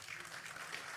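A small audience applauds in a faint, steady patter of hands that carries on quietly for about a second, with no talking over it.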